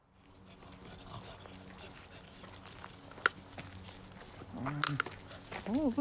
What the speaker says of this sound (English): Oh, look, another doggy.